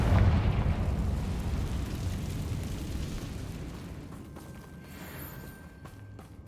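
A Confringo blasting spell detonates in the video game Hogwarts Legacy, a loud booming blast up front that rumbles and slowly fades into a quieter, crackling tail.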